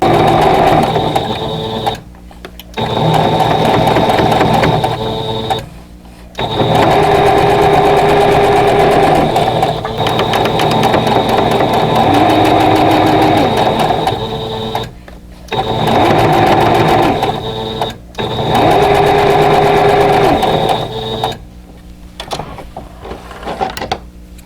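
A sewing machine joins rows of a quilt block with loud, close, continuous runs of stitching. Brief pauses between seams break up the steady mechanical whir.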